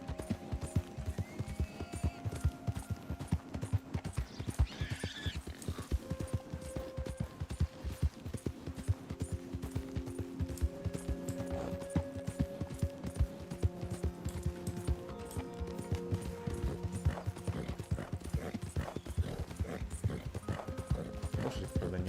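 Horse hooves clip-clop steadily in the video game Red Dead Redemption 2, a continuous even trot with faint mechanical clicks and a game music tone underneath, moderately quiet.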